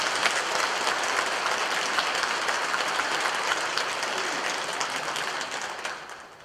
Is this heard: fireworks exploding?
no